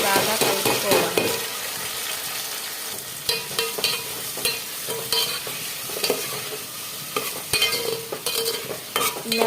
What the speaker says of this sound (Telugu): ఆయిల్ వేసుకొని దీనిలో ఉల్లిపాయ, టమాటా, పచ్చిమిరపకాయ 3 వేసుకోవాలి. వీటిని బాగా కలుపుకోవాలి.